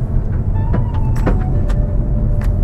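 A 2019 Mazda 6 GT sedan runs over a rutted, loose gravel road in the Australian outback, giving a loud steady cabin rumble with scattered small knocks and rattles from the suspension.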